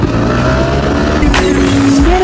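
A Bajaj Pulsar NS motorcycle pulls away, its engine revving loud and close with a rising tone as it rides off on a first ride.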